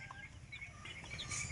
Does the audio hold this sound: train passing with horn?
no